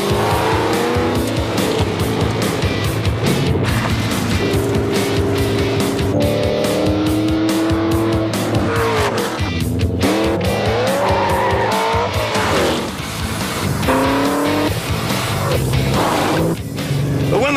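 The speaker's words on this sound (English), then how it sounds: "This thing is actually a race car built for the road." A Ford race car built for the road accelerates hard with a loud, continuous engine roar, rising and falling through gear changes, as tires squeal and skid repeatedly across the run.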